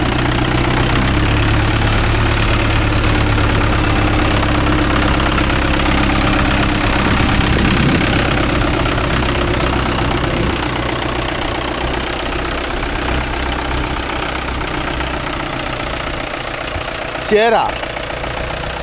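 A Mahindra tractor engine runs out in a field, a loud, steady diesel drone with knocking vibration that fills the whole stretch, while voices talk over it and a brief sharp noise rises near the end.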